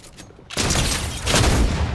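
Dense rapid gunfire from a Fortnite match bursts in after a quiet half-second, a sustained loud fusillade of overlapping shots that swells again toward the end, with no voices.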